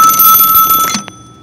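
A telephone bell rings loudly in a steady trill for about a second, then cuts off abruptly, followed by a short click and quiet room tone.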